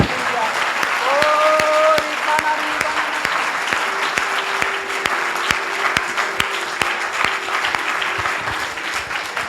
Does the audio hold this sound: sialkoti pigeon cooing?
no